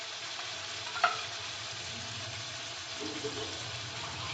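Sour yogurt goes into a pan of frying spice mix for Bengali doi katla, bringing a soft steady sizzle with light stirring scrapes and a brief clink near the start.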